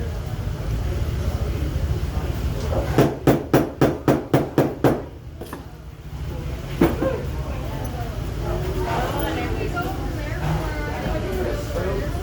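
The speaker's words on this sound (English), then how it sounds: "I'm going to put the Buckley stamp on it before it gets in the way" Seven sharp, evenly spaced hammer strikes drive a Buckley maker's stamp into a leather belt at an old engine show, ringing out clearly over a steady outdoor hum and low background chatter.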